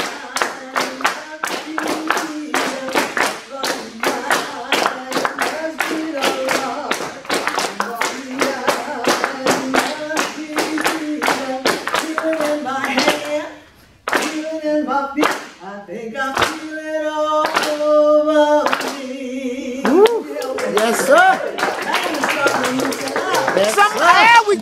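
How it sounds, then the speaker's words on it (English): Rhythmic Lowcountry double clapping in the Charleston Gullah Geechee style: sharp, close hand claps in a steady driving beat, with singing voices carrying over them and a short pause partway through. "Double clap now."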